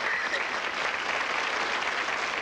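A studio audience applauds the star of a 1964 CBS primetime celebrity game show, Carl Reiner, in a dense, steady wash of clapping that fills the whole stretch without a break.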